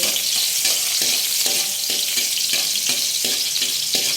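Garlic fries in hot cooking oil in a pan with a constant bright sizzle, broken by a regular series of soft stirring knocks from a utensil; no voices.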